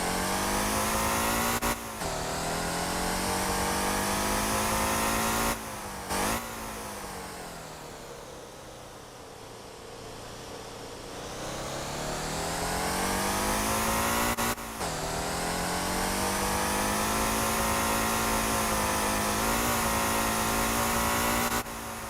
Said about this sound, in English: This V12 engine is so loud compared to the V8.